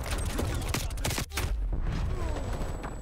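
Rapid bursts of gunfire ring out in a video game shooter, a close volley of sharp repeated shots that breaks into a short pause before more shooting and faint impacts follow.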